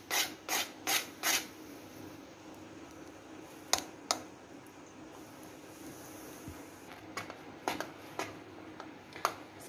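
A spoon scrapes and stirs cream in a pan while it slowly turns into homemade ghee: quiet rhythmic rubbing strokes, a quick burst of four at the start and scattered scrapes later over a soft background.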